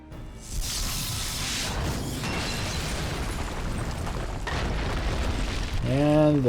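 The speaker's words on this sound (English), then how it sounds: "And this red statue is destroyed." A red statue blows apart in Final Fantasy XIV, a loud booming blast followed by a sustained rumbling, whooshing roar that holds steady for several seconds before a tonal game sound rises at the end.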